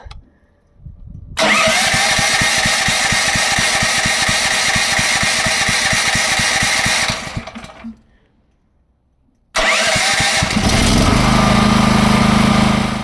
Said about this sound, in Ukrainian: Але це самий гучний генератор, який я тестував.